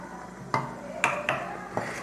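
Sugared peanuts being stirred in a pan for a crunchy praline recipe, with four distinct scraping, clinking knocks of the utensil against the pan, close and separated by short pauses.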